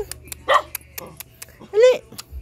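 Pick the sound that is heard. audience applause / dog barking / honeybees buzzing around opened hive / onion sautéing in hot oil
dog barking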